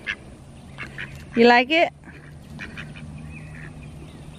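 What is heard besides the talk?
ducks quacking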